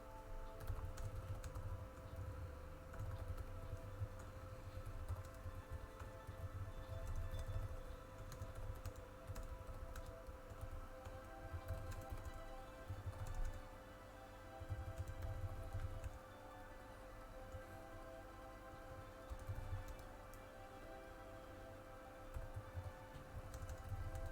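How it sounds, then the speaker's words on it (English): Rapid typing on a computer keyboard, a dense, continuous clatter of key clicks held at moderate volume throughout, with no talking. "Don't mind the rapid typing in the background."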